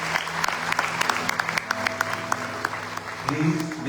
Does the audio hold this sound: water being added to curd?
no